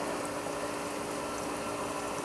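A water pump runs steadily in a hydroponic lettuce tower, giving a continuous close hum with trickling, splashing water throughout.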